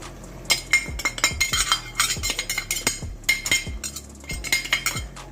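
A metal spoon stirs Maggi noodles with paneer, vegetables and masala powder in a pan, giving rhythmic clinks and scrapes against the pan that come close together, loud and near, with no voices.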